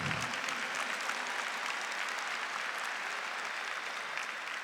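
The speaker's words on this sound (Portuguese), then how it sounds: "Pode bater palmas, sim." Church audience at a religious talk breaking into sustained applause, a dense, even wash of clapping from many hands filling the whole stretch with no pause.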